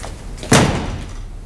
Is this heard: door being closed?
yes